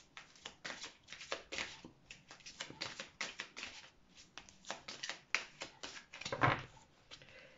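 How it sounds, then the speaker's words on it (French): Tarot cards shuffled and slid over one another on a table while covering a spread, giving a steady run of close, crisp riffling and flicking bursts with short pauses, no talking. "on va venir recouvrir"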